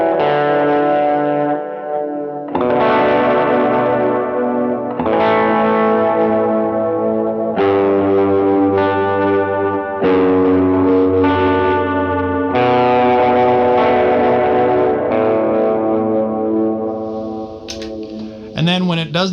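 Electric guitar played through a Sunday rig with a little reverb and delay, sustained distorted chords changing every couple of seconds, loud and close, ending in a brief scratchy flourish.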